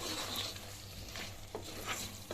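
Chicken curry with chili powder is stirred in a pan, soft frying sizzle with scattered scraping strokes, quiet and close, without speech.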